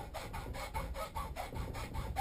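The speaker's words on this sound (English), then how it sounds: "We're going to take a hacksaw. We're going to just cut" Hacksaw cutting a small indentation in a hornbeam handle, a quick run of quiet rhythmic rasping strokes, about ten back-and-forth passes in two seconds, close and alone without talk.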